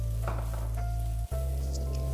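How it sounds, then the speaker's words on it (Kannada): Capsicum and onion fry in a pan for carrot palya, giving a close, steady sizzle with a faint steady hum and a momentary break partway through. "ಸೊ ನಾನೀಗ ಕ್ಯಾಪ್ಸಿಕಮ್ ಹಾಕ್ಕೊಂಡು ಒಂದು ನಿಮಿಷ ಫ್ರೈ ಮಾಡ್ಕೋತೀನಿ."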